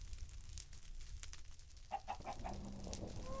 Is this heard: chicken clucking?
yes